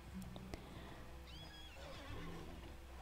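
A horse whinnies in the online horse-breeding game Alicia Online, with rising and falling neighs over a steady game backdrop and a few sharp clicks, fairly loud and alone with no talk.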